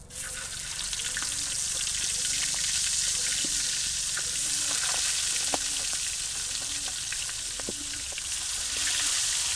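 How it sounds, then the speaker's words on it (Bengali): Pomfret frying lightly in a pan produces a continuous, close, bright sizzle, with regular soft scraping strokes from stirring or turning the pieces repeating every second or so. "আজকে একটু হালকা ভাজা দিয়ে মাছ রান্না করবো বেশি বাজবো না"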